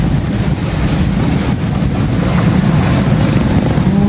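A sailboat runs at about six knots along Pittwater in strong northwest winds, with constant loud wind buffeting and rushing water noise filling the whole stretch.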